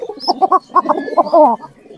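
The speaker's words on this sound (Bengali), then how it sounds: "এই পায়রাটার ডাক অনেকক্ষণ আছে" A pigeon calls nearby with a rapid series of throaty coos and gurgles, rising into a longer rolling call before tailing off.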